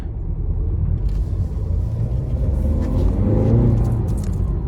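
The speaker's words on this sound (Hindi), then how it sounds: "बहुत ही अच्छा रोर दे रही है यार" Tata Altroz facelift hatchback engine during a launch, a steady low rumbling roar heard close from inside the car, building slightly toward the end with no talk.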